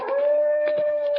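A dog stuck behind a high fence lets out one long, steady, mournful howl, loud and close, with no voices over it.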